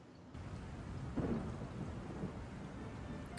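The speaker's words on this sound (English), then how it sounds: "Rain." Steady rain with a low rumble of thunder within a music track, a continuous dense hiss with a swelling roll of thunder partway through and no voices.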